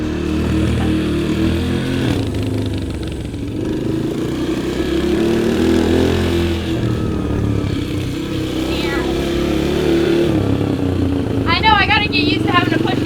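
A motorcycle revving as the rider works the throttle and pulls a small wheelie at a junkyard, a steady mid-distance engine drone with rising pitch near the end, mixed with people talking.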